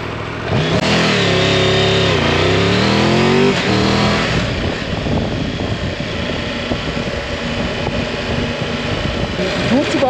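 A Triumph Tiger 1200 GT motorcycle engine pulls hard while riding, rising in pitch through a couple of gear changes before settling into a loud, steady road roar with wind rush.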